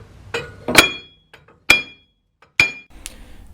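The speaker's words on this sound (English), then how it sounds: "2 hammer hitting." Sharp metallic hammer strikes ring out, a quick double hit followed by two more single blows, each with a brief bright ring.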